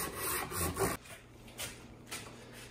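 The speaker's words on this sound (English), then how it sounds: "you can sand both the lip and the bottom part at the same time" A sanding block rubbing across the lip and bottom edge of a wooden box, a faint close rasping in a few back-and-forth strokes that fades into quiet pauses.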